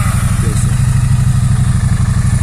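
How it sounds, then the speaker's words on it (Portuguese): A 2016 Triumph Street Twin 900cc motorcycle engine runs close by with a steady, throbbing low rumble that pulses evenly throughout, loud and continuous with no talk over it. "a gente precisa ligar essa máquina apertando a embreagem aqui"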